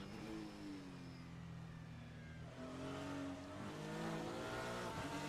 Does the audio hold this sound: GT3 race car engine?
yes